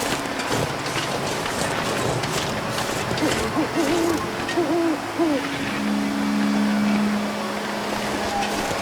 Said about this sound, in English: You hear the owls?